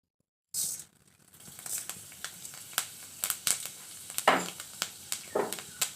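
Dried red chillies and fenugreek seeds drop into hot oil, opening with a sharp hiss, then a steady crackling sizzle punctuated by louder pops and spits, close to the pan, with no speech.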